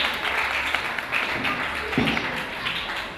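An audience applauds at a kindergarten event, producing a dense, continuous patter of many hands clapping at moderate volume with no voices standing out.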